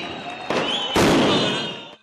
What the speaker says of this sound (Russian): Протестующие поджигали автомобильные шины и запускали фейерверки.